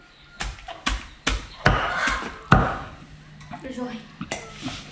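Sharp chopping thuds strike irregularly as vegetables are chopped for pig feed, about ten blows in a few seconds, close and fairly loud, with faint voices in the background.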